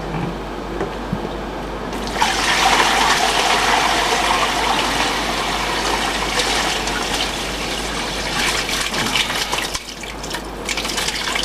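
Liquid from a rye-multigrain moonshine mash being poured and dumped into another vessel, a steady splashing gush that starts after about two seconds and runs on, close and fairly loud.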